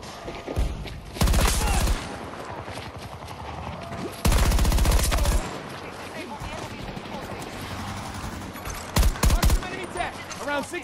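Bursts of automatic gunfire in Battlefield 2042, two loud sustained volleys and a short sharp burst near the end, over busy game noise and a talking voice.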